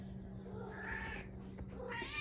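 A pet cat meows near its food in a home during a morning routine, two short drawn-out cries, quiet and close, with a little background noise.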